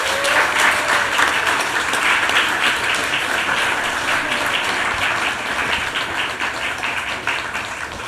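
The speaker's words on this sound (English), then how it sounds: "I'm going to ask you just to applaud this conversation that we've been listening to." Sustained audience applause at a literary festival event, dense and steady for the whole stretch, tapering only slightly toward the end with no talk over it.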